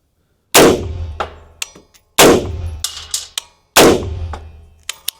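Colt IAR rifle with an A2-style flash hider firing single rounds: three loud, sharp reports about 1.6 seconds apart, each with a ringing decay and fainter clanks and echoes trailing after.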